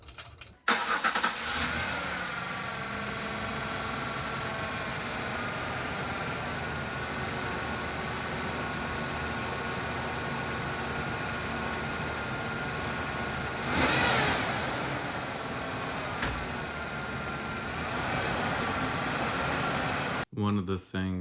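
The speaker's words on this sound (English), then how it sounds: "So we're gonna fire it up here and see if it makes any difference." A Ford Ranger 3.0 engine with a swapped camshaft synchronizer turns over and fires, then runs steadily for a long stretch at a constant idle, with a brief rise in revs partway through.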